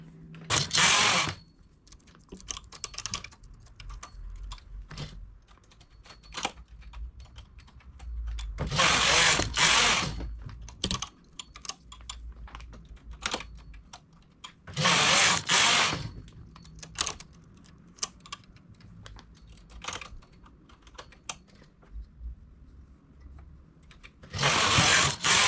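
A domestic knitting machine carriage sweeps across rows of a knitted vest with side decreases, giving repeated loud rasping passes a few seconds apart, separated by quieter clicks and handling noises.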